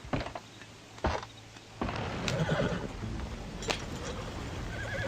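Horses neigh and whinny several times in quick succession in a video game, mixed with hoof clatter and a steady background rumble.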